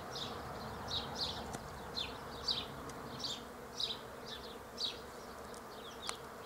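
Bees forage on tree buds outdoors at 8 degrees. Faint, soft buzzing passes come and go in short repeated bursts over a quiet outdoor background.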